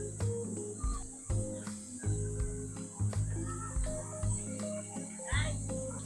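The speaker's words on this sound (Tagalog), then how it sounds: "Narinig niyo yung mga kuliglig ba yan?" Crickets chirp at a spring resort with natural pools in Tanay, Rizal, their faint, steady trill running beneath nearby rustling and bursts of other close sounds.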